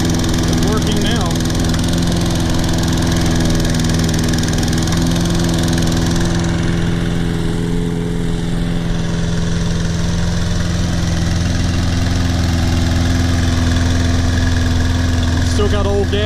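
A Toro Personal Pace Recycler 20332 self-propelled lawn mower, almost new but running on old gas, drones loudly and steadily up close, its engine holding an even, unbroken idle-like roar throughout.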